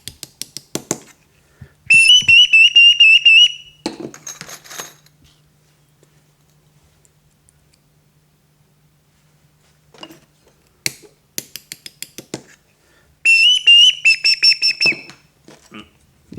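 Handmade bird whistles blown in a workshop, producing loud warbling trills in several bursts, separated by quiet pauses and clattering, clicking handling noises.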